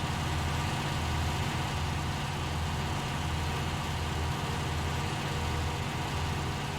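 A tractor engine idles steadily in Farming Simulator 19, a constant low rumble with a dense, unchanging hum and no talk over it.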